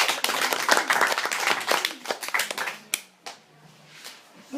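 Audience applause at a high school debate, a crowd of hands clapping loudly and densely for about three seconds before thinning into a few scattered claps and fading.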